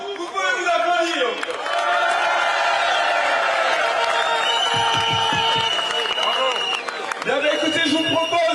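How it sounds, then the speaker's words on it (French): A crowd of protesting farmers at the EU Parliament claps and cheers in a loud, dense, sustained wave, with shouts and babble mixed in, and a speaker's voice over the start and end. "bravo à vous, merci à vous, vous pouvez vous applaudir"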